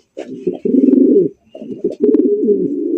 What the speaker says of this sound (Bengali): আরো একজন রেসার কবুতর, মাশাআল্লাহ কোয়ালিটি দেখছেন